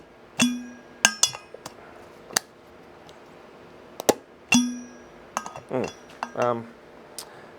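Close-up clicks, clinks and hollow knocks of a Revomax vacuum flask bottle and its hard lid popping off, scattered irregularly with a few soft scraping sounds, no talking.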